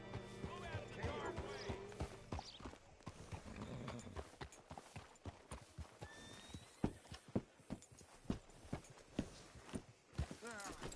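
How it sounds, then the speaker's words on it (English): Horse hooves clip-clop on hard ground, a run of distinct, fairly close steps in an uneven rhythm, with talk and other noise in the first half before the hoofbeats stand out. "Hitch your horse up here."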